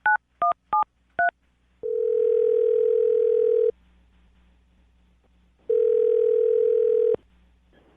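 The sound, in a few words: telephone being dialed, dial tone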